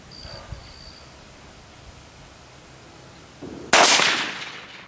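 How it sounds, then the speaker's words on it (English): A rifle fires a single loud shot at a target during a hog hunt, a sharp blast with a decaying tail after a few seconds of quiet outdoor background. "I'm gonna just close my eyes and shoot."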